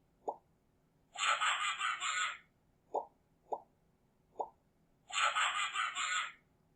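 Short soft clicks alternate with two brief bright chiming bursts, like interface button sounds, clean and isolated against near silence.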